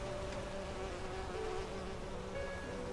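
Bees buzz in the fantasy video game Enderal: Forgotten Stories, a continuous droning hum with faint wavering pitch, steady and close throughout with no speech.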